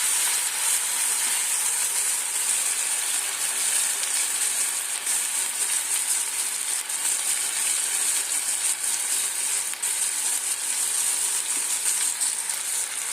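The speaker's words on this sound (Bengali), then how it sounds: "এইভাবে কষতে হবে যতক্ষণ না আদা রসুনের গন্ধটা যাচ্ছে" Chicken sautéed with ginger-garlic paste in oil gives a constant, even sizzle and hiss that carries on with little change throughout, close and moderately loud, with no talking.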